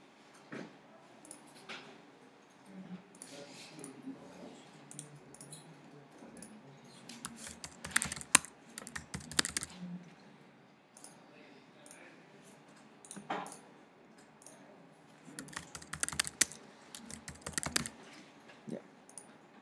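Keystrokes tap on a computer keyboard as a shorter password is entered during an operating-systems class, coming in irregular bursts of quick clicks separated by short pauses, fairly close.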